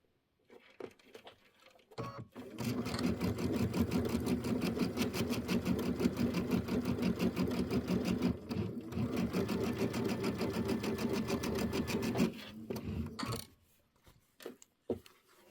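A sewing machine sews a pieced quilt block for a Kimberbell Hello Sunshine quilt, running in one long, steady, close whirring burst of about ten seconds, with a few faint taps before and after.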